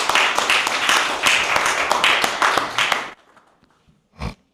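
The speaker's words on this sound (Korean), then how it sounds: "박수로 환영하겠습니다" A symposium audience at a Korean peace and unification event applauds to welcome a speaker, a dense roomful of clapping that runs about three seconds and then stops abruptly, followed by near-silence and a brief noise.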